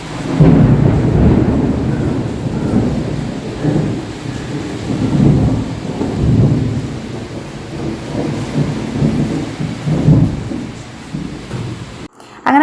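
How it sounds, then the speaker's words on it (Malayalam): A summer thunderstorm rolls and rumbles with deep, sustained thunder over a constant wash of heavy rain outside a house. The sound is loud and continuous, and nobody speaks. "അങ്ങനെ പുറത്ത് നല്ല മഴ പെയ്തുകൊണ്ടിരിക്കുകയാണ്."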